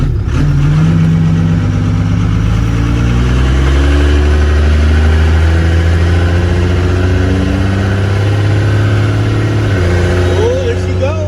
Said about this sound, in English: First road test with the Cummins.